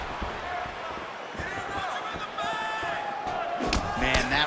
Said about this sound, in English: Strike lands clean.